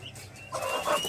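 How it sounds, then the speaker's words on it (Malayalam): A female turkey gives a single brief cluck, close and fairly quiet, in a clip barely a second long. "Female Turkey."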